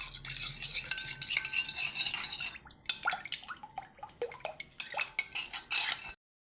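Milk, water, oil and sugar are stirred together in a bowl, with a utensil clinking and scraping briskly against the sides in a steady run of close, lively strokes that stop abruptly.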